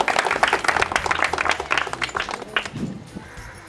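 A small group claps for a correct answer in a Marathi film-guessing game, with brisk, close, uneven clapping that fades out over the last second.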